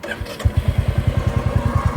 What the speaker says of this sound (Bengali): তো বাইকটা স্টার্ট দেওয়ার চেষ্টা করি